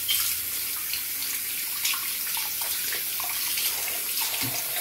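Tap water runs steadily into a sink during face washing, a close, continuous splashing hiss with small drips and shifts in the stream and no talking.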